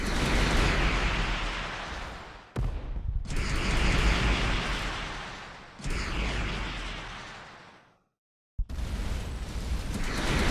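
Missiles launch and explode in the space game Starcom: Unknown Space, producing long, loud roaring blasts that fade out one after another, broken by short gaps and a moment of near silence.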